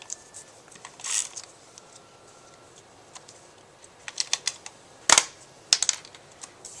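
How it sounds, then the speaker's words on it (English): Tape runner laying adhesive onto card paper while making a sympathy card, heard as a few quick, light clicking and ticking bursts scattered through a quiet room, with one sharper burst near the end. "And I'll use this little tape runner."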